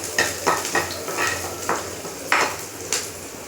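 Fried tempering poured into radish sambar, with sizzling and a series of sharp spoon and pot clinks spaced irregularly over a steady frying hiss, close and clear.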